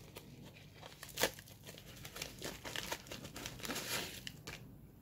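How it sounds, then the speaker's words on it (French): Someone handles a small paper envelope and opens it, giving close, soft crinkling and rustling in irregular bursts. "On va passer sur cette petite enveloppe."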